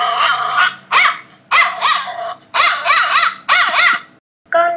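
A dog barks loudly and close in a series of about six sharp, yelping barks with short pauses between, ending in a brief final yip.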